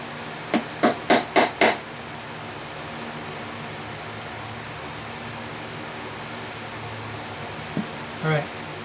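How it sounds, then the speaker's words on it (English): Five sharp hammer taps in quick succession drive binding into a guitar's binding channel in a workshop, followed by quiet background hiss and a couple of faint knocks near the end. "I'm going to hammer this in and get it ready"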